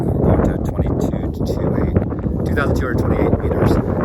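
Strong wind buffets the microphone on a wet summit trail of Mount Kosciuszko in rain, a loud, continuous rumbling roar with gusty swells throughout.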